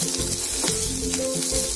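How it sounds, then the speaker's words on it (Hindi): Onions sizzle and fry in hot oil in a pan, giving a steady, close crackling hiss with no voices over it. "उसके बाद हम लोग इसमें ओनियन डालेंगे और गोल्डन कलर आने तक इसे"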